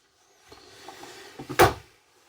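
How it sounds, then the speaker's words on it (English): A soft-close drawer in a 2024 fifth-wheel RV slides shut with a few soft rubs, then a single muffled thump as it settles closed, close by in a quiet room. "Soft close drawer guides and stuff as well."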